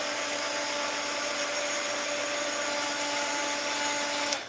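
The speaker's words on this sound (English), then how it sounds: "let's hit this again with the heat gun" A heat gun blows continuously while making wax thread for bookbinding, a steady, loud airy roar with a faint motor whine that cuts off abruptly at the end.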